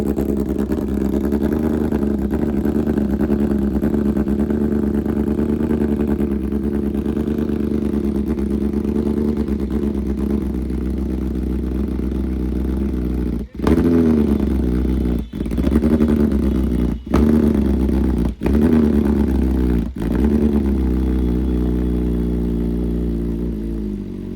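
A BMW S1000RR sport motorcycle engine with a faulty fuel pump idles loudly and steadily at close range, then a series of sharp throttle blips rev it up several times in a row.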